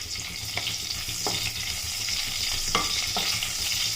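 Green chillies fry in hot oil in a pan, giving a continuous close sizzle with occasional light stirring clicks and no speech over it.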